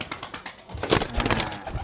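Pigeons, a flock of Swag Gas Chandan breed birds, coo in a small crowded coop; soft overlapping low calls build from quiet to a steady murmur, close and moderately loud with no talking.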